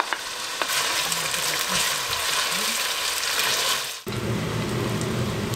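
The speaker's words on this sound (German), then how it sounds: "Ich brate jetzt hier Zwiebeln mit etwas Olivenöl und Ghee" Onions fry in a mix of olive oil and ghee with a loud, steady hiss. Stirring scrapes sound near the pan, and the sizzle briefly dips and then resumes.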